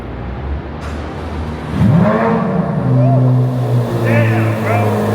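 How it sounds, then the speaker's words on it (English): A Chevrolet Corvette C8 Z06 cold start: the engine fires up loudly about two seconds in, then settles into a rising, revving idle with varying pitch, recorded close by. "I'm gonna give y'all a cold start real quick."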